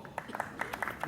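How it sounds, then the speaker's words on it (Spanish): A small crowd gives brief, scattered hand claps at a livestock auction where fillies are being sold, a short burst of a few distinct claps. "Pachuco González, fuerte el aplauso."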